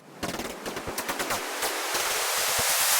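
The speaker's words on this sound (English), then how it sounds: "Just a regular white noise riser, nothing to get too excited about." A white noise riser swells steadily over about three seconds, starting with rapid rhythmic bursts that blur into a continuous rising hiss.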